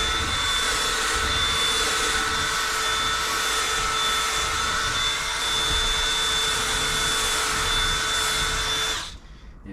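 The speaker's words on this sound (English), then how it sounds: "the vacuum cleaner is not really doing enough, so we're going to take at it with the drill" A power drill runs steadily, used to scrub the fabric headlining of a Rover Streetwise car interior, a continuous close whine with a high tonal note that cuts off abruptly near the end.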